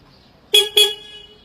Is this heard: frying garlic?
no